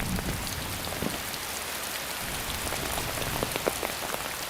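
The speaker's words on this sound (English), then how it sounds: "a storm threatens to flood the site." Steady heavy rain from a storm hisses and patters on a surface at a muddy heavy-haul site, with occasional louder drops; no distinct thunder stands out.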